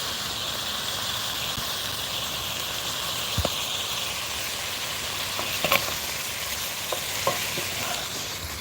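Ingredients for a rustic French-style chicken soup sizzle and fry in a pot outdoors, a steady broad hiss with occasional scraping stirs and clinks, fairly quiet, with wind in the background.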